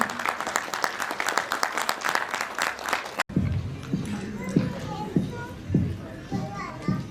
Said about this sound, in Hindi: इसके लिए इनको बहुत बहुत तालियों से इनका स्वागत, अभिनंदन।